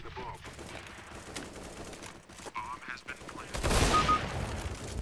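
Counter-Strike: Global Offensive gunfire: scattered shots and a louder sustained burst toward the end sound faint and mixed under a commentator talking over the match.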